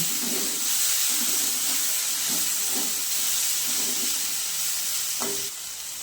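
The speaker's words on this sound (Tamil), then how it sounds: "ஈரப்பதம் லைட்டாக போகிற அளவுக்கு வதக்குங்க" Chopped cluster beans sauté in a pan for a poriyal, a steady hissing sizzle with repeated soft stirring scrapes at a regular pace, heard alone without speech.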